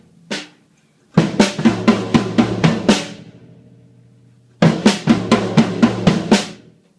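Drum kit playing a drum solo pattern slowly, with the bass drum thumping on every eighth note under regular snare and cymbal hits, in two bursts of even beats separated by a decaying pause; close and loud, no talking.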